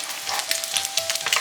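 Food fries on a griddle in bacon grease while making a grilled bacon egg cheese sandwich, giving a close, continuous crackling sizzle with small pops and no talking.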